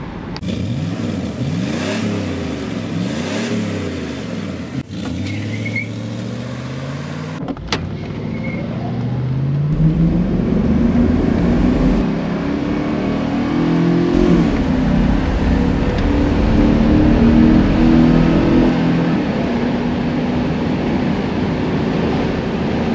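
Mercedes SL accelerating hard, the engine note sweeping up through rising revs and gear changes, loud and close with continuous road and wind roar, no talk.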